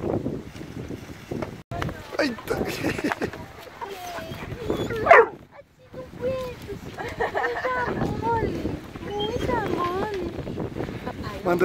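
Hunting dogs bark repeatedly and excitedly outdoors during a hunt amid wind noise, with a few voices talking in the background.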